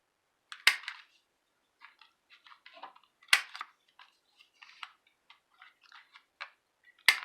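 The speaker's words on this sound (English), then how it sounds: "And then I'm going to round off my corners on this card" A corner rounder punch rounds off the corners of a handmade card, giving several sharp, close clicks and snaps separated by quieter handling and rustling.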